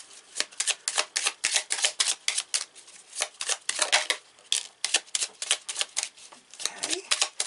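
A deck of daily healing tarot cards is shuffled by hand up close, giving quick, crisp, rhythmic flicks and riffles in steady repeated bursts.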